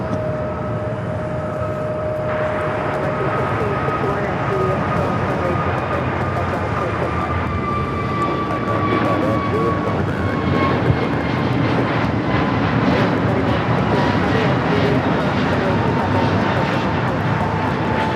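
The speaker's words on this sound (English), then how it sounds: "This is American Airlines 119 taking off to Lihue on the A321neo." An American Airlines Airbus A321neo takes off from Los Angeles International, its engines a loud, steady roar with rising whine tones that build and hold across the whole stretch.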